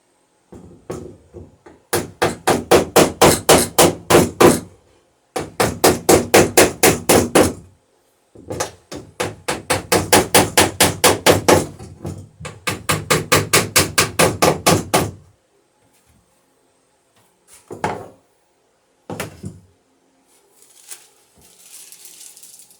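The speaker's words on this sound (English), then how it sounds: "So I'm driving the nails in and then putting the burrs on" Hammering nails and setting burrs while riveting the planking of a John Gardner dory: long bursts of rapid, ringing metallic blows, close and loud, separated by pauses, then a few isolated taps.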